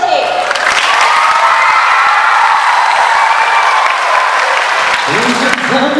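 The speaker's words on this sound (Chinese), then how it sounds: "掌声有请" Audience applause filling a hall, loud steady clapping throughout with a few cheering voices rising over it near the end.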